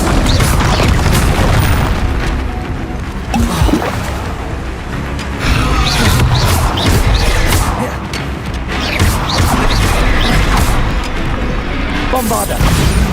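Bombarda blasting spell explosions in Hogwarts Legacy amid other spellcasting combat: several loud booming blasts and crashes in succession, with whooshes and impacts between them and a voice occasionally speaking.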